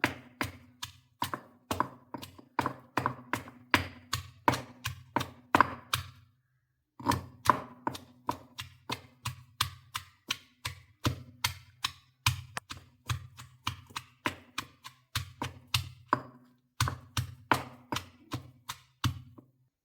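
Onions are pounded to crush them, Kerala style, in a long series of sharp, regular thuds that come in quick rhythmic runs with short pauses between, close and fairly loud with no talk.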